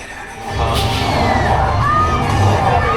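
Tour passengers on the Universal Studios Hollywood tram cheer and whoop for the driver, a rising burst of crowd noise with shouts and high voices swelling after a quieter start and holding loud.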